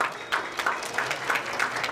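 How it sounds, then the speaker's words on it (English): Modest applause from an audience at a climate change conference, a short burst of scattered clapping that rises and falls at moderate volume. "Our applause."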